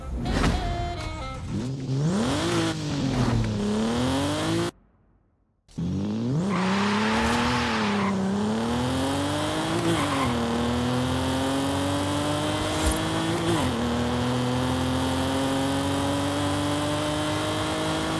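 A 2010 Nissan 370Z engine in a video game revs loudly, pitch climbing through repeated gear shifts, with a brief cut to silence before it roars up again.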